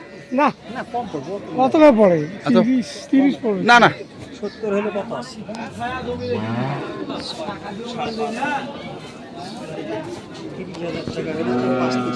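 A large cow moos at a cattle market, a few deep calls heard under steady conversation and background chatter from the surrounding crowd.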